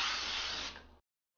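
Non-stick cooking spray hissing from an aerosol can while greasing a 9-inch cake pan for a hazelnut cake, one steady close burst of about a second that cuts off abruptly into silence.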